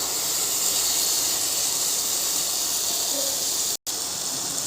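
Tomato curry with turmeric sizzles in hot oil in a pan, a steady close hiss of frying that holds evenly throughout, broken by one brief cut near the end.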